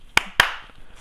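Two sharp snap claps ring out close by, quick and crisp, about a fifth of a second apart, with near silence around them.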